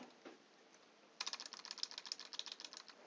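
Fast typing on a computer keyboard while entering a phrase into a spreadsheet cell, a dense run of quiet, close key clicks starting abruptly after a brief hush, no speech.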